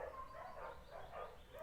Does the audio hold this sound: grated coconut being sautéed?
no